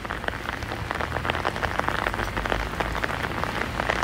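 Rain falls steadily on a road, a dense, even patter of drops that stays loud throughout.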